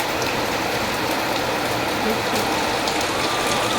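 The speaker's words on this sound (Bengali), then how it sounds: "আরে দেখো বৃষ্টিটা হচ্ছে" Steady rain falls heavily and continuously, a dense hiss with scattered patter of drops on nearby surfaces.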